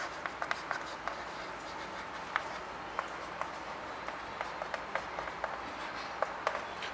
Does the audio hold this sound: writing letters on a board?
yes